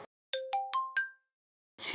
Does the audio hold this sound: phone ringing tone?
yes